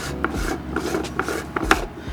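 A plastic deck pedestal is twisted by hand, producing close, dry ratcheting clicks and rubbing creaks in an uneven rhythm of about five distinct clicks.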